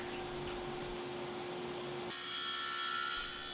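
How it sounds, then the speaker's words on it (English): A drum sander works glued-up wooden cutting boards in a shop, giving a steady whining motor drone with a grinding rasp, shifting to a brighter, harsher tone partway through, quiet and continuous with no talk. "investing in some good tooling like this drum sander definitely helps make it go by much faster"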